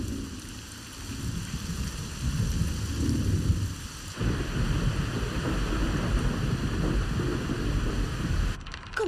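A storm rages around a ship in an anime, with dense rain hissing and pattering on surfaces over low rolling thunder rumbles that swell midway, steady and loud throughout.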